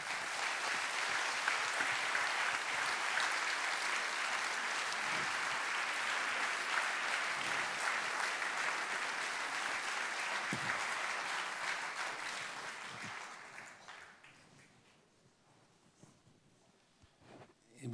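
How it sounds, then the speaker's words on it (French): Steady, even applause from a lecture audience continues for roughly thirteen seconds at moderate distance, then dies away into near-silence. "vos applaudissements ont tout dit"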